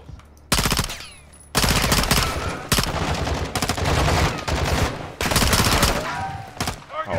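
Sustained automatic gunfire from a weapon in Modern Warfare 2 rattles loud and close in several long bursts separated by brief pauses, with sporadic shouting in the background.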